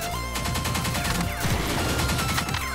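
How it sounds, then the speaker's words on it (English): Rapid explosions and gunfire in the arcade shooter Pineapple Smash Crew form a dense, continuous barrage of blasts and crashes with no voices. "Too many explosions!"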